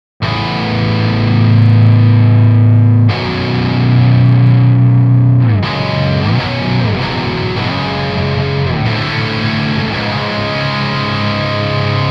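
Thick, saturated electric guitar chords through a tube amp without an HM-2 pedal ring out loud and sustained, with a few shifts and palm-muted chugs, played alone with heavy distortion.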